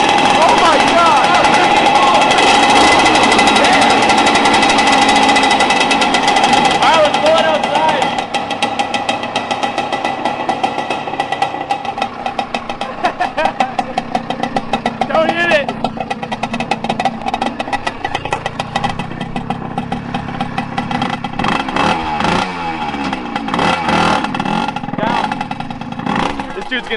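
A four-stroke shifter kart engine on studded tires runs on thin ice, loud rasping revs that fade and drop into sputtering, uneven idling, with excited voices and shouting over it.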